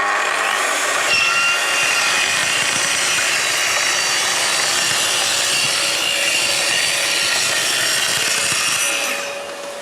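A Festool TS55R plunge saw spins up and cuts a board along its guide rail, trimming the splinter guard. It gives a loud, steady whine for nearly ten seconds, then tails off at the end.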